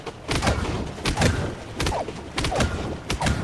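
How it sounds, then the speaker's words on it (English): Objects repeatedly clang and thud against metal drums on a SpongeBob Squarepants roller coaster ride in a video game, a rhythmic series of loud, close metallic hits roughly every half second. "I love the sound effect of it hitting the metal drums."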